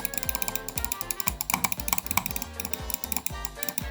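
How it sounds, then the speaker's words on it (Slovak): Rapid computer mouse clicking during Roblox play, heard as dense, fast, ratchet-like mechanical clicks close to the microphone, continuing steadily for a few seconds with no talking. "Ja viem, že počujete moje klikanie"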